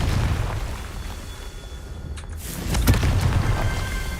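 A Confringo blasting curse goes off in Hogwarts Legacy with a loud booming burst, followed by crackling debris over a continuous rumbling game background.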